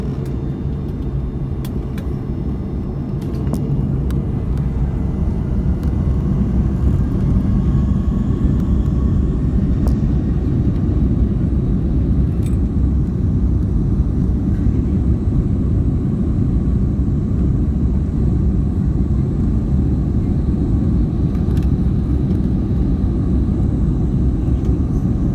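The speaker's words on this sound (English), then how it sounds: "Okay, so they're increasing the throttle." The engines of a Mahan Air Airbus A310-304 on a flight from Kish to Tehran spool up for takeoff, a loud, steady roar and rumble that builds and holds from inside the cabin, with no talking.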